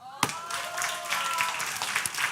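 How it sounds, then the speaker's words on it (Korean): Brief burst of group clapping in a church youth gathering, a room of hands applauding together at close range, mixed with voices. "유일하게 2개 얘기한 경훈이에게 박수"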